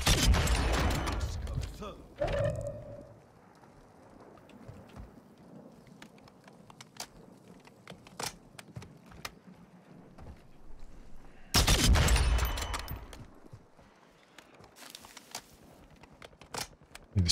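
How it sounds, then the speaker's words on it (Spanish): Distant gunfire in Call of Duty: Warzone, two long loud bursts of rapid shots at the start and again midway, with scattered single pops and a speaking voice in between. "Disparan por ahí lejos."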